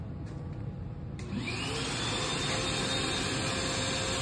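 A shop vac working as a CNC mist collector runs continuously, and its loud, steady roaring whine rises in pitch as it spins up, close and without talk.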